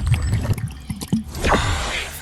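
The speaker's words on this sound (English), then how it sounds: "Let me just take a sip of water first." A person sipping a drink of water up close, with a few small wet mouth sounds and slurps followed by a brief swallow and breathy noise.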